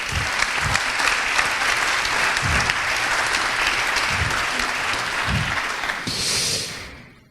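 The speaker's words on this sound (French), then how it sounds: "Veuillez l'applaudir." An audience at a mock trial in a conference hall applauds an expert witness, a dense sustained burst of clapping that fades out at the end, with a faint murmur and no speech over it.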